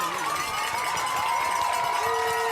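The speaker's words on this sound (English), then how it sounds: "It's the loudest we've heard this crowd in a long time" A stadium crowd on both sides cheers loudly at a high school football game, a dense, sustained roar with rising shouts and whistles, with a commentator talking over it.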